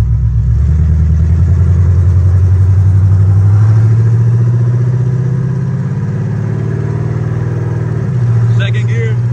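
A Chevrolet Monte Carlo SS G-body engine pulls loud and close through gear changes, its low drone climbing then dropping with each shift, with a brief higher mechanical note near the end.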